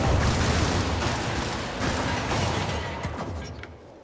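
Sustained rapid gunfire in a video game, a dense fusillade of overlapping shots and blasts that thins out toward the end, loud and close with no talking.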